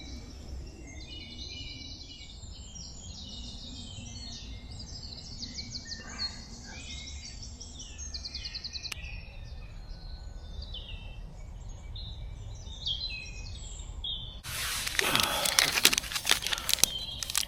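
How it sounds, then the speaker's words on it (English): Morning birdsong fills a quiet woodland among bluebells, with many overlapping chirps and trills in the middle distance, then a loud rustle or crinkle close by near the end. "Bird song and bluebells."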